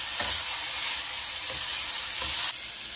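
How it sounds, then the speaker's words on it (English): Pre-boiled chicken stirred in a pot for chicken rice soup, a steady broadband wash with a few soft scrapes and knocks of the spoon, close and fairly loud, no talk. "The chicken's been pre-boiled, so a stir here and a stir there"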